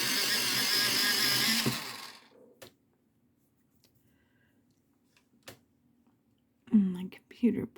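A hand or electric sharpener grinds a colored pencil while someone shades an adult coloring book. A dense, buzzing whir runs for about two seconds and then cuts off, followed by quiet taps and a soft voice speaking.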